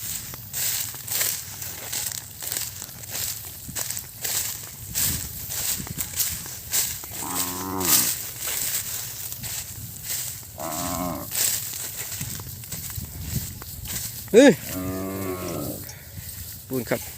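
A stray herd of ten cows lows outdoors, with three drawn-out moos spread across a background of rustling, crinkling and shuffling footsteps, moderately near.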